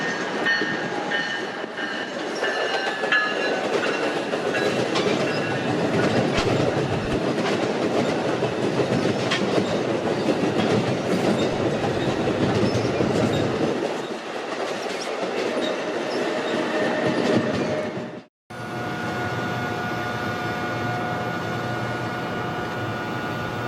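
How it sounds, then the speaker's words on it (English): A New York-bound commuter train hauled by an ALP-46 electric locomotive roars past at speed near Baker Interlocking, loud and close, wheels clattering rhythmically on the rails before a brief break and a steadier rumble afterward. "we watch New York-bound train 6670 come flying in"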